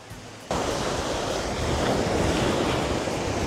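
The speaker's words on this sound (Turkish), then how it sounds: "Şu an Miami Okyanusu'ndayız." Ocean surf at Miami Beach rushes in as a loud, continuous wash of waves with wind buffeting the microphone. It starts suddenly after a quieter moment.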